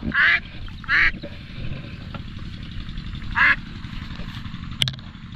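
Domestic ducks quack in loud, nasal bursts, about three distinct calls spaced across the stretch, over a steady low outdoor rumble with a sharp click near the end.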